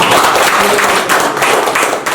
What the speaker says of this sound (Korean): 사또의 집에 김선희 이사님께 큰 박수 드리겠습니다